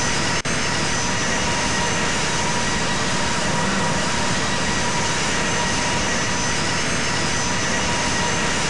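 Airbus A320 jet engines in the Infinite Flight flight simulator game roar steadily and loudly throughout during a Jetstar takeoff at Los Angeles (KLAX), a continuous broadband engine drone with no talk.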